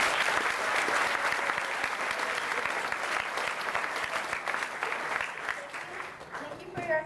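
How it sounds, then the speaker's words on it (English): An audience at an 8th grade graduation breaks into sustained applause, dense and loud throughout, easing off slightly toward the end. "would you please join me in a round of applause?"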